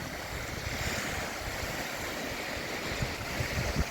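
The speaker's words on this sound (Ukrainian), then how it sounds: "І такі хвилі з барашками," Steady rush of whitecapped waves breaking and churning on the Dnipro River in October, with a constant wind roar across the whole stretch, close and fairly loud, no voices.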